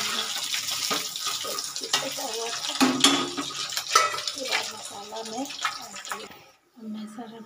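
Fish roe pakoras fry in oil with a loud, continuous bubbling sizzle and occasional clinks of utensils, while someone talks over it.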